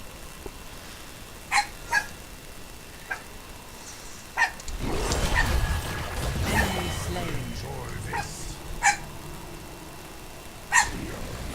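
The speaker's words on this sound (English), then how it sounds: "My dog likes to bark at nothing and it gets increasingly annoying the longer she does it." A pet dog barks in a home, sharp single barks scattered across the clip, several within about ten seconds, moderately close, over a backdrop of video game sound effects.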